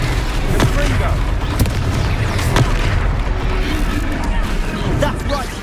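Confringo fire spell blasts go off in the Hogwarts Legacy video game amid a dense, continuous wash of booming battle noise, with voices shouting over the fight.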